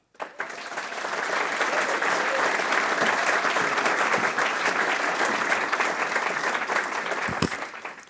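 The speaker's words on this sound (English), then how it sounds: "let's welcome her to the stage with a very big applause, Amy Webb." An indoor audience bursts into sustained applause welcoming a speaker to the stage at an evening lecture, a dense, even wash of clapping that starts abruptly and holds steady for several seconds.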